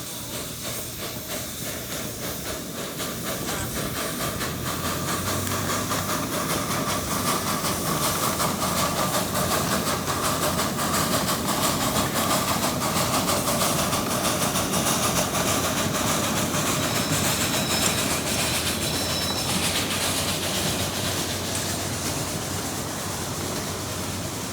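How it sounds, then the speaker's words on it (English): A steam train departs the station at a steam and power show, giving a broad, continuous hiss and rumble that swells and holds steady, with a faint high whistle tone partway through. "number 1 and its train left the station"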